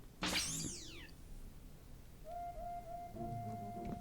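A cartoon cat in the Pac-Man 2 video game lets out a loud, sweeping synthesized meow, followed by quieter electronic game tones and a faint whistle-like beep.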